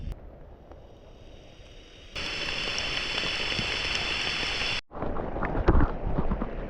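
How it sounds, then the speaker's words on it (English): Dense, hissing torrential rain pours steadily while fishing, suddenly growing louder for a stretch, then cutting briefly before continuing with scattered heavier drops and wind buffeting. "I thought that was going to be the end of it, but it just keeps raining."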